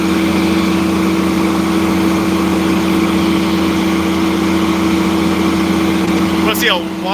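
A Case 9130 articulated tractor on dual wheels idles nearby with a loud, steady engine hum and a constant low drone that holds unchanged throughout, with a brief faint higher sound near the end.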